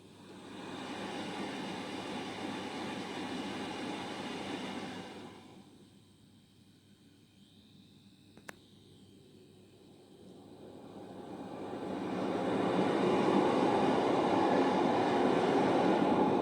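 A cross-country high speed diesel train roars past a station platform, loud broadband rush for several seconds, dropping briefly before swelling again as more carriages pass close by, with no talk.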